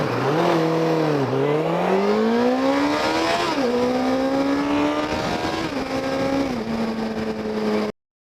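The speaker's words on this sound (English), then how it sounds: "this is what the bike sounds like after fitting the Delkevic exhaust" A 2006 Suzuki GSX750F fitted with a Delkevic 450mm stainless steel slip-on exhaust revs loudly and continuously up close, its engine note climbing and dipping through several rising sweeps with no talk over it.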